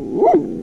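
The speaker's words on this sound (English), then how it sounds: "Nobody wants to hear you bark like that." A single short, close dog bark at an off-grid rural property, sharp and loud with nothing else around it.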